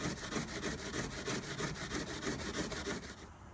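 Hand sanding of metal with 220 grit sandpaper, heard as a steady rhythmic rasping of quick back-and-forth strokes, close and fairly loud, stopping just before the end.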